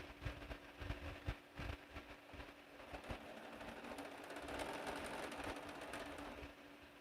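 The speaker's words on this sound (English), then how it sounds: "But I'm just sewing what I can sew." A sewing machine stitches quilt fabric in a quiet room, its fast mechanical whirr running in short bursts and then steadily, soft and close with no talking.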